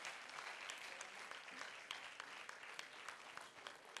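A television studio audience at a Star Kids talent show applauds as contestants leave the stage, with dense, steady clapping that fills the whole stretch and carries no speech.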